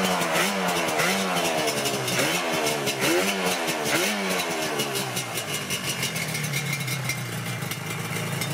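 A Yamaha RZ350 two-stroke motorcycle engine firing up for its first start, running on oil pump and premix, revving in rising and falling surges before settling into a loud, buzzing, steady run close by, with no talk.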